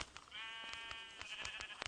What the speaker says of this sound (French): Parce qu'en fait je vais taper sur des moutons.